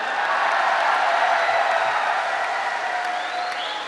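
An audience at a Hindi comedy poetry show (kavi sammelan) applauds steadily, a dense, continuous wash of clapping that holds at a constant level for several seconds and tapers slightly at the end.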